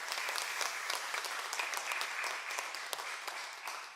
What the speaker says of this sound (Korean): 우리 박수로 우리 두 분 다 환영하겠습니다.